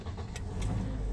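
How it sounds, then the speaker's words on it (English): A Toyota Corolla Altis Grande engine starts at the push of a button, a low steady hum from a nearby car rising briefly and settling into a smooth idle, with no talk. "Let me just start the car, press the brake,"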